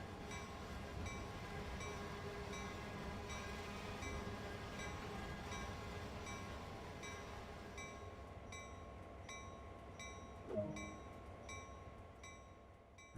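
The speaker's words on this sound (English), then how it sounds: "So let's bring it to a stop. Move the auto brake to initial reduction." GP38-2 locomotive in Train Sim World 2 braking to a stop: a steady rolling rumble and wheel noise fade gradually, with a brief squeal or air release near the end as the train halts.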